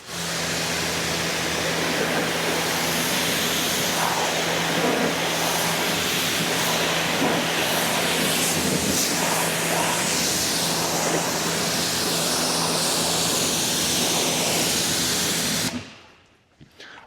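Water sprayed over a car to rinse it after a rinseless wash, a loud, steady, close hiss of spray running without a break for most of the span, then cutting off abruptly near the end.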